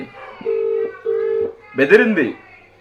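An unanswered telephone call rings back in two steady, even tone bursts. A short voice follows right after.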